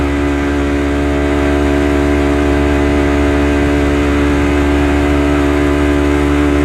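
A Honda CBR250RR motorcycle fitted with a 3Tech Evox X3NRC aftermarket exhaust runs steadily at raised revs, giving a loud, close, continuous engine roar with no talking.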